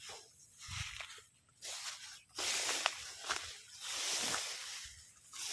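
Calamansi plants are sprayed with a sprayer, giving several bursts of hissing spray separated by quieter gaps with faint rustling and steps, close by and without speech.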